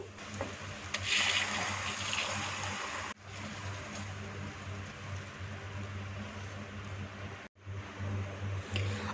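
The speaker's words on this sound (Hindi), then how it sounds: "ये 1 गिलास पानी इसमें मज़ीद शामिल किया है" Water poured from a glass into a pot of amla (Indian gooseberry) curry, a steady rushing gush of liquid lasting several seconds with a brief break midway, close and moderately loud.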